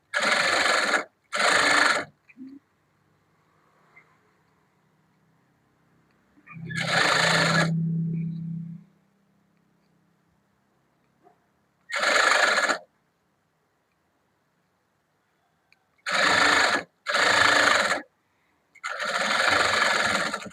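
A sewing machine stitching a blouse lining: one short burst of machine whirring in the middle, alternating with stretches of someone talking and quiet gaps.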